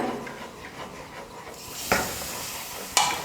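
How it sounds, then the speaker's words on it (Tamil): Hot ghee is ladled into a Mysore pak mixture and stirred: a soft, steady scraping of the stir, then a sudden sizzling hiss as the ghee hits, with a second sharp sizzle about a second later. "கொஞ்சம் கொஞ்சமாக நெய்யை சேர்த்து கலந்துக்கலாம்"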